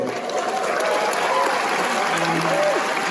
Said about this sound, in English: please don't uphold for applause, just keep applauding the whole time